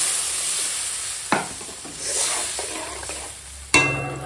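Vegetables sautéing with spices in a pan, a continuous sizzle broken by a few sharp scraping stirs of the spoon, close and fairly loud, no voices.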